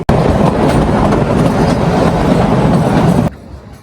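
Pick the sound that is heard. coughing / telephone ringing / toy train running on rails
toy train running on rails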